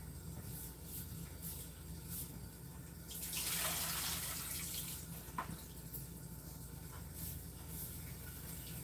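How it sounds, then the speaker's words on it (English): Water from a kitchen tap runs steadily to rinse peeled potatoes, a soft continuous hiss that swells into a louder gush in the middle before settling back, quiet throughout and without talk. "I just gotta put water on them here and give them a rinse."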